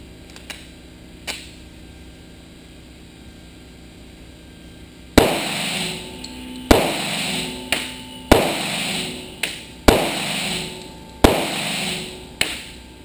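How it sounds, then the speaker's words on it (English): Kahr PM45 double-action-only pistol firing Golden Saber 230-grain hollow points, a string of six loud sharp shots at an uneven pace of roughly one to two seconds apart, each ringing briefly, after a quiet stretch with faint clicks and no talking. "we're shooting Golden Saber 230 grain hollow points in it right now"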